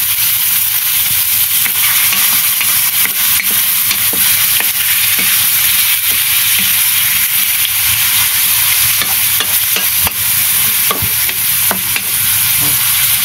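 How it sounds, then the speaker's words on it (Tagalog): Meat sautéing in a pan, loud continuous sizzle close up with intermittent scraping and clinking of a spatula as it is stirred, no voices. "Igigisa po siya. Halo-haloin mo tapos mamaya takpan mo muna."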